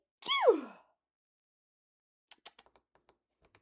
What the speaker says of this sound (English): Your Honor, I had to sneeze.